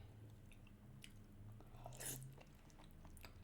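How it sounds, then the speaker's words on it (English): Soft chewing of a salmon fillet at close range, quiet and faint, with one brief louder wet bite partway through and no talking. "Let's finish this salmon fillet."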